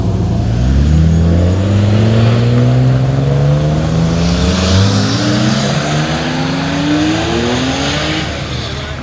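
Sports cars pulling away from a Porsche Cars and Coffee meet in Melbourne rev loudly one after another, engine notes rising and falling in overlapping sweeps through the whole stretch, close and strong.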